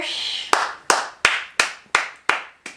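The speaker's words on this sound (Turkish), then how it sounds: "Ben kendimizi alkışlıyorum." A woman claps her own hands in seven sharp, evenly spaced claps, close and loud, each with a short ringing decay, after finishing her first try at ebru marbling.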